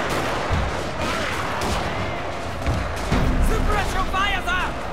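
Rifle volleys and artillery fire from the Battle of Toba-Fushimi, 1868 in Shogun 2 Total War, a dense crackle of gunshots under shouted voices and battlefield din.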